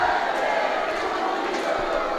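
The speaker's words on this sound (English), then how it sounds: "You can hear the spectators singing and cheering." Crowd of spectators at a women's field hockey gold medal match between China and India, singing and cheering in a steady, dense roar that stays constant and loud throughout the short stretch.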